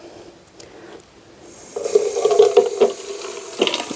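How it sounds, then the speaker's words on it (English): Water running into a make-up brush cleaner, a steady splashing pour starting about halfway through and continuing with small gurgles, close and fairly loud. "Put some water in so its bristles are halfway in the water"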